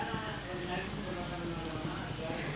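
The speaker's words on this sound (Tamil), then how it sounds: "நல்லா கொதிக்குது பாருங்கள்." Country crab rasam soup bubbling in a pot, a soft, steady crackling and simmering hiss that continues throughout at low volume.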